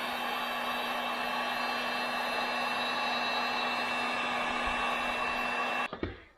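A hot-air gun blows a steady, loud, whooshing hum while heating a plastic part to bend it during a refresh of a 1980 Yamaha XT250 motorcycle, then cuts off abruptly near the end with a short clatter.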